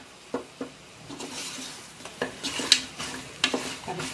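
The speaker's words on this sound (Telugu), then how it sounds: "ఆయిల్ లో ముక్క బాగా వేగిన తర్వాత గట్టి పడుతుంది సో అంత వరకు బాగా కలుపుతూ ఉండాలి" Mutton pieces fry in oil while being stirred, a soft sizzle broken by irregular scraping clinks of a spoon against the pan, close by and moderately loud.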